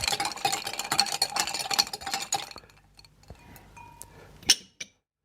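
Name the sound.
stirring an amaretto cocktail with ice in a glass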